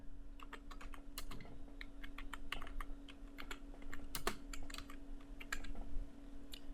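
Keys tapping on a computer keyboard while a comment is typed into a spreadsheet, irregular clicks spread across the whole stretch over a constant low electrical hum, close and clear, without speech.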